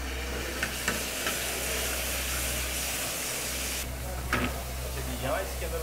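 Chili paste sizzles and fries in a hot pan while being stirred, a steady loud hiss with occasional scraping clacks of the spoon, close up, under a low electrical hum and intermittent speech.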